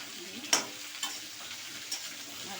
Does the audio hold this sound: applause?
no